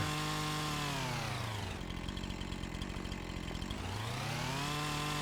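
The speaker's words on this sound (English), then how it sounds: "there's a mod that you can just remove tree stumps with your chainsaw" A chainsaw in the Farming Simulator 25 video game cuts away tree stumps, its engine revving high, dropping into a rough chugging bite through the wood, then climbing back up, loud and close with no talk.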